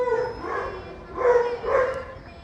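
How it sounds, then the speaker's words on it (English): A dog gives a few short barks and yips in separate bursts, fairly close and moderately loud, with no talking over them. "that's a dog. A dog's a dog."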